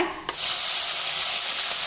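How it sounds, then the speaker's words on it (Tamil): Onions and tomatoes hit a hot pan with a soft clatter, then a loud, steady sizzle and hiss of frying continues close by. "இப்போது வெங்காயம், தக்காளி எல்லாம் ஒன்றாவே சேர்த்துடலாங்க."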